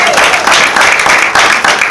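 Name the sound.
audience clapping for themselves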